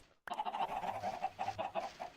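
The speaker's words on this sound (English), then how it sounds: "A egg farm, basically. Where I get plenty of chickens" Chickens on a video game egg farm cluck and squawk in a steady run of close, loud calls, with no talk.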